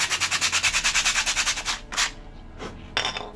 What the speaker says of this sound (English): All I'm really going to do is just roughen the surface